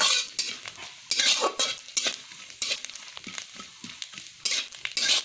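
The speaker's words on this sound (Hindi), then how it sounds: "ये भी मैं फ्राई कर लेती हूँ इसको भी पूरा ब्राउन होने तक" Ingredients for tomato chutney fry in a pan until brown, with bursts of loud sizzling and crackle alternating with quieter moments and occasional clinks of a utensil against the pan.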